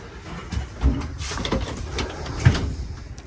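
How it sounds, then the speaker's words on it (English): A closet door in a fifth wheel trailer slides and bumps shut, a close rattling scrape with two sharp knocks, no talking. "But if I close the door, I move the closet."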